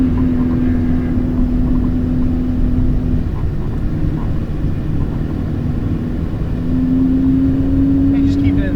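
A Ferrari 488 GTB rolls slowly along a Las Vegas racetrack, its engine a steady, loud, close drone with a low tonal hum that steps up in pitch near the end.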